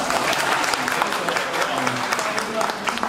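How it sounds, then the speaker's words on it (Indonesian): Lively applause from a community gathering in Purwokerto, close and fairly loud, many hands clapping steadily with some voices audible underneath. "Tepuk tangan dong."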